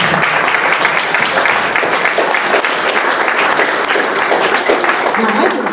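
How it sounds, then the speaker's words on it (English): A middle school audience at a school pride celebration gives a round of applause for the school's designers, loud continuous clapping from a large crowd filling the whole stretch, with some voices faintly mixed in. "So let's give them a round of applause."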